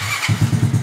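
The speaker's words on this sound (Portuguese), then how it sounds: "Aí eu ligo a chave e aperto o botão, tá vendo?" A small motorcycle engine, a trail bike of around 50 cc with a finely tuned carburetor and spark plug, starting on the first try with key and button, then settling into a quick, even putter up close.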